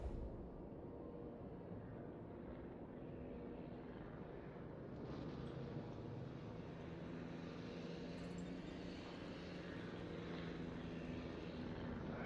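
A propeller airplane in a video game drones steadily and faintly in the distance, with a continuous hum and no speech.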